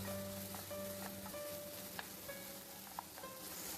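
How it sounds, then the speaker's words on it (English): Quiet, steady sizzle of okra (lady's finger) shallow frying in oil in a pan, with faint clicks and light stirring scrapes over a soft continuous crackle; a low hum sits underneath. "Let's shallow fry the lady's finger to avoid the stickiness."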